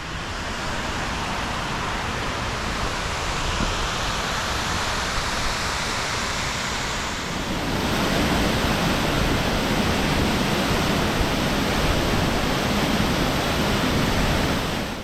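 A waterfall in the Scottish Highlands roars as a loud, steady broadband rush of falling water, growing heavier and closer partway through and continuing without voices.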